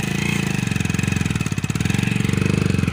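A motorcycle engine runs close by with a fast, steady putter of rapid firing pulses, loud and even throughout with no talk over it.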